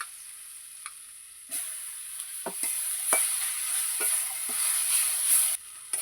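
Chopped tomatoes and Kashmiri chilli powder hit a pan of frying meat masala with onion, ginger and garlic, bursting into a loud, close, hissing sizzle broken by a few spatula scrapes.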